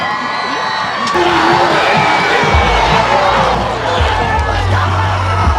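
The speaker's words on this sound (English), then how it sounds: "student section is alive, everyone's cheering" Student section cheering at the first football game of the year in a stadium: a loud, sustained crowd roar of shouts and whoops, with deep low rumble joining partway through.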